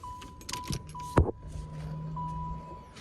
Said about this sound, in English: you hear the fuel pump coming on